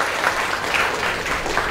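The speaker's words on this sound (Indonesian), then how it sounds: "tepuk tangan Talita." Children clapping for a girl named Talita at a Ramadan Islamic school session, a steady close patter of applause lasting under two seconds with no talk over it.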